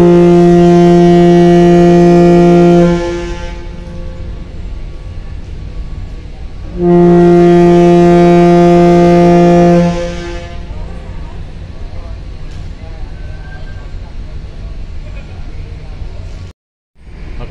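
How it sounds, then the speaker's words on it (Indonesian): Two long, loud blasts of a ferry's departure horn sound at Bakauheni ferry port at night, the vessel moored at pier 6, each steady tone lasting about three seconds with a quieter gap of harbour ambience between them. "Suling pemberangkatan."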